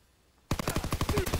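Rapid gunfire from Call of Duty WW2 breaks out of near silence after half a second, a loud burst of repeated shots in a steady rhythm that continues to the end with no talk.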